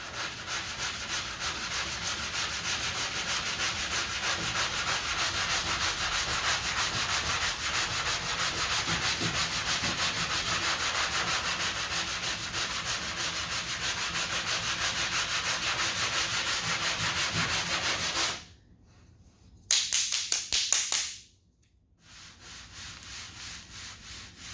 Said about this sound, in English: I'm gonna sand just a little bit more